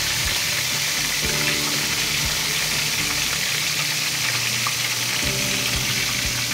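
Shrimp sizzling and frying with salted egg in a hot pan, a loud steady crackling hiss with occasional stirring scrapes, close up and without talk.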